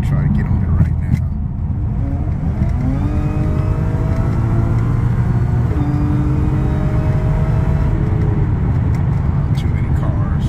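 A car pulls hard under full throttle during a cooling-pump test run, engine note rising in a steady loud sweep that climbs and settles over about ten seconds, with wind and road roar throughout.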